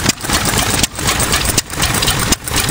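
An old Rosebery 4 hp stationary engine runs loudly nearby, its exhaust chugging with a regular heavy beat and brief dips roughly every three-quarters of a second.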